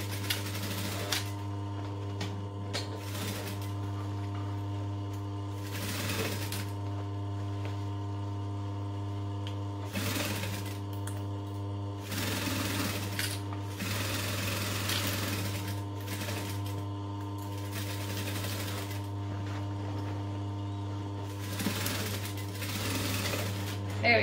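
Sewing machine stitching a fabric backpack, a steady whirring drone with several bursts of rapid stitching and short pauses between, close and continuous under a constant hum.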